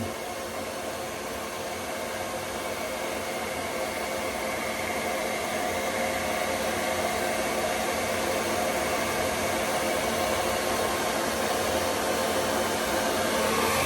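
A hair dryer blows continuously on a beard, a loud, steady close whoosh of air for the whole stretch, no speech.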